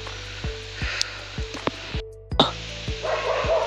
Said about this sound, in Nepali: कुकुर चाहिँ डरलाग्दो भुक्दैछ है